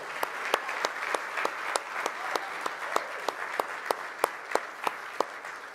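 Steady applause from a crowd, a dense wash of clapping with sharper individual claps popping out at a quick, even rhythm.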